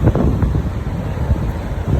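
Strong wind buffets the microphone at the base of Takakkaw Falls, a loud continuous rushing roar that gusts and swells throughout, with no voices.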